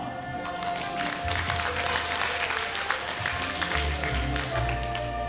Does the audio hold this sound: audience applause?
yes